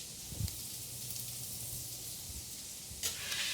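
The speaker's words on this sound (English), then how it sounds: "Yeah, you can hear that sizzle." Steady frying sizzle of onions in butter in a hot pan, a continuous hiss with a brief scrape near the start and a louder burst toward the end.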